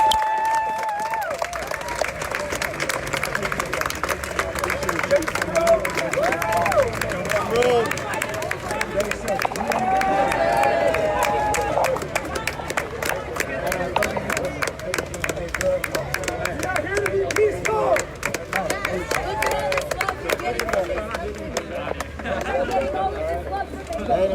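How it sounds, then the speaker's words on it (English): At a George Floyd protest, a street crowd cheers and claps continuously, a dense roar of voices and scattered whoops with people talking nearby throughout. "If you hear that cheering around me, that's because of this."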